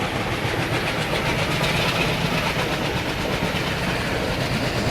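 Diesel train in the Indian Railways Train Simulator game running at speed, a steady loud broadband roar of engine and rolling wheels with faint rhythmic clatter, continuous throughout and without talk.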